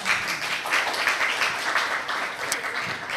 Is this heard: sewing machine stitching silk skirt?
no